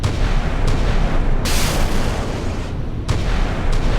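Warship air-defence guns firing at incoming bombers in the naval game Sea Power, a dense continuous roar of rapid booms and bursts, loud and sustained with a few sharper cracks.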